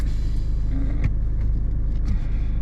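A car pulling away during a mock driving test in Hendon, its engine rumbling steadily from inside the cabin with a couple of small clicks and knocks.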